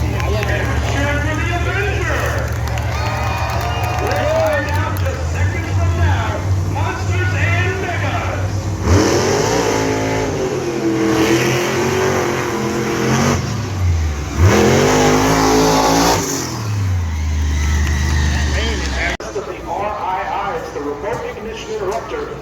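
Big diesel monster trucks and a 6'7" mega truck rev loudly at a live arena show, engines surging and falling in long waves while an announcer talks over a public address system throughout.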